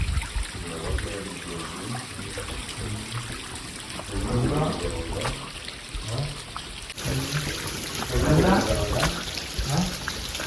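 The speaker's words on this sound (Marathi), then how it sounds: "गडाच्या पायथ्यावरनं एवढं कंटिन्युअस पाणी वाहतंय" Water runs continuously down the stone steps at the foot of Raigad fort, a steady trickling, splashing stream close by, with voices talking over it at times.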